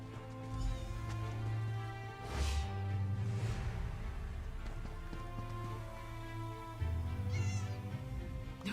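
Cats meow repeatedly in The Elder Scrolls Online, their tonal cries sounding over a steady humming game background with soft rain-like hiss.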